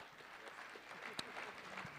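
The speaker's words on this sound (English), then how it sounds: "Round of applause for them" An audience applauds three finalists at the Dealmakers Live 2012 pitch competition during the Banff World Media Festival, a faint, steady patter of clapping that sounds distant across the hall.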